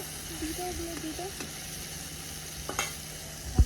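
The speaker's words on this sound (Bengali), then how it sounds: "মাছগুলোকে লাল লাল করে ভেজে দিব" Shrimp sizzle steadily in hot oil in a pan while being stirred, a continuous close frying hiss broken by a few scraping utensil sounds and a clunk at the end.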